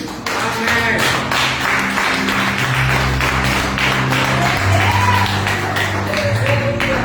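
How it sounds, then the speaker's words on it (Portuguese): A church congregation applauds for Jesus during a service, a sustained wash of clapping with scattered sharp claps, while a voice, music or murmur runs steadily underneath. "Você pode aplaudir Jesus?"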